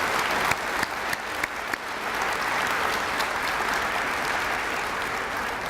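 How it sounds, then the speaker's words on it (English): Sustained applause from a crowd at an outdoor highway dedication ceremony honoring project partners, steady and dense throughout with a few sharper claps near the start. "Let's give all of these people a round of applause as we celebrate this project today"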